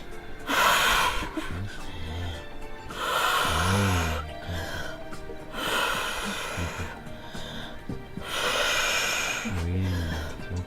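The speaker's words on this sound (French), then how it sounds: "respire par le nez" A person takes slow, deep nasal breaths during a Wim Hof breathing exercise: about four long, rhythmic inhales and exhales, close and airy, with a voice speaking softly between them.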